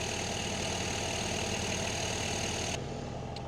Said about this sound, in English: I got the tractor warming up here